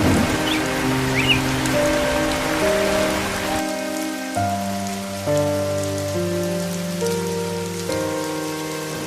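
Cartoon rain falling steadily during a flood, a continuous hiss of drops on surfaces under a layered musical score that changes tone partway through, with no voices.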